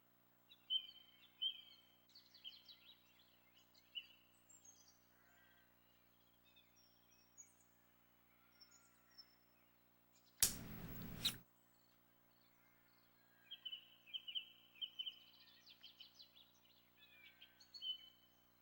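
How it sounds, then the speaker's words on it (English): Bird noises from the Wii video game Story Hour: Adventures, faint high chirps and twittering trills scattered across a quiet stretch, broken once by a brief loud burst of broadband noise in the middle. "enjoy these bird noises"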